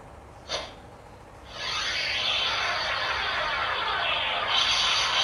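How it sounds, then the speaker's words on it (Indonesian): A CSM Arcle henshin belt toy emits an electric sound effect: a brief crackle, then a sustained bright buzzing hiss that holds steady for several seconds at moderate loudness. "Jadi cuma ditambahin listrik suara-suara listrik kayak gitu."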